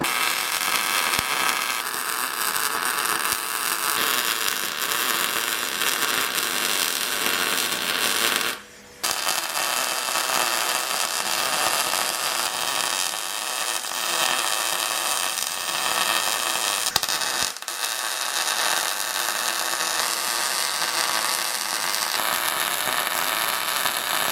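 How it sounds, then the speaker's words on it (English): Stitch welding a weld-in subframe reinforcement kit for a Nissan 240SX S13, steady loud crackling hiss of the arc running continuously, broken by one brief pause midway and a short dip later, no voices. "I'm just going to stitch weld this together, doing about 1/2 inch apart"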